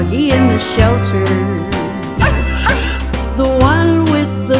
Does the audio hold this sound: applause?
no